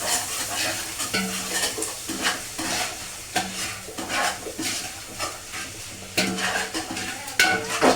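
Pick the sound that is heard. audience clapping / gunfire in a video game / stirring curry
stirring curry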